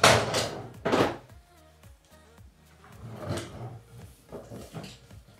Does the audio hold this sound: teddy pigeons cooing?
no